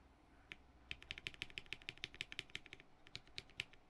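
Mechanical keyboard with MX2A Black switches and GMK keycaps being typed on, a quick run of crisp, close clacks at an uneven rhythm, fairly quiet with no talk.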